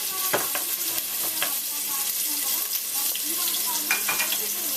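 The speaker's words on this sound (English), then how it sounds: "And when my onions are frying, they're getting golden brown." Onions fry in a pan for vegetarian chili, a steady close sizzle with occasional stirring scrapes and clinks against the pan.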